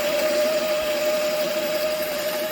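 A coffee grinder runs at 700 RPM with a steady, close motor whine and a sustained tonal hum over a dense whirring, even and uninterrupted throughout.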